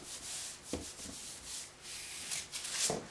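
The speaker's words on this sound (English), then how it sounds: "Just go ahead and give it a good coating and glue it right down." Glue is brushed in a thick coat onto plain cardboard for a homemade file-folder wifi antenna, making soft, quiet rubbing strokes that swell and fade in an uneven rhythm.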